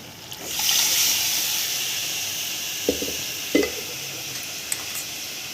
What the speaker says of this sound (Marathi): थोडं पाणी टाकूया